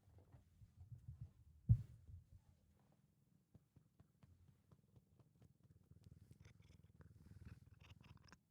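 A cat purring close to the microphone, a soft, low, continuous rumble that carries on alone. It is broken by one sharp bump early on, and faint clicks and small noises are scattered through it.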